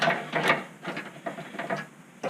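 A 13mm ratcheting box-end wrench tightens a nut while installing a hood lift kit on a 2003/2004 LST, giving quick bursts of light ratchet clicks in short irregular runs, close and clear with no talking.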